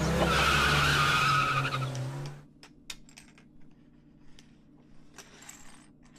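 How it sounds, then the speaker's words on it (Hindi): A car is driven hard as its tyres skid and screech in a loud, sustained squeal that cuts off after about two seconds, leaving faint clicks and rattles over a low hum. "मम्मा थोड़ा तेज चलाने वाली है गाड़ी।"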